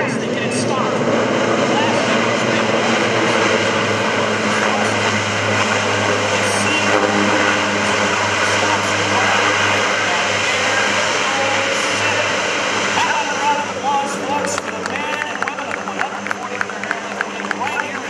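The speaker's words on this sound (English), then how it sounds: "Now that the C-130 is on the ground," A Lockheed C-130J-30 Hercules turboprop roars loudly at an air show as it brakes to a stop after landing, its propeller drone steady and close before easing slightly near the end, with an announcer talking over it.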